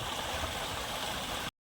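Water pouring out of a large tank into a bathing spot on a hot summer day gives a steady, close, broadband rushing flow that runs unbroken until the sound cuts off abruptly.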